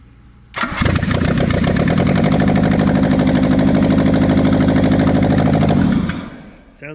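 A Toyota AE86 with a newly fitted starter cranks and fires, then runs loud and close at a rough, steady idle for about five seconds before the engine is cut and winds down.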